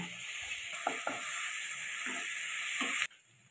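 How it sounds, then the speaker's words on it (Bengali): Ginger-garlic paste is stirred into onion paste in a hot pan, giving a steady hiss of frying with a few scraping strokes of the spoon, until the sizzle drops off abruptly near the end. "এই সময় আমি আদা রসুনের পেস্ট দিয়ে দিলাম। ভালো করে নাড়িয়ে চাড়িয়ে মিশিয়ে নেব।"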